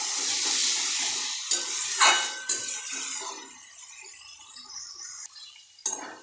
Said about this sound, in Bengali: এবার খুব ভালো করে কষিয়ে নেব চিকেনটাকে দিয়ে।